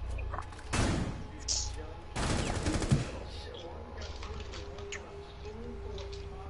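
Gunfire in a video game, with two dense rapid bursts of automatic fire followed by scattered lighter shots, fairly close, while voices talk around it.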